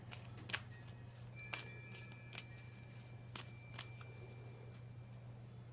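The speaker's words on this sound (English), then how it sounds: "let's go ahead and shuffle and pull your Ascended Master, your Doreen Virtue Ascended Master" Oracle cards being shuffled in a series of crisp riffling bursts and taps, fairly close, over a steady low electrical hum.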